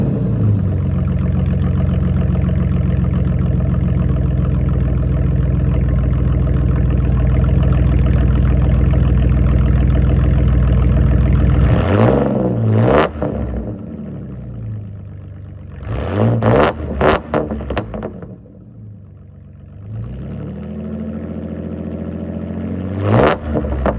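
A 2005 Ford Ranger pickup idles with a deep, throaty exhaust burble, then is revved several times in sharp bursts before settling back to a rumbling idle.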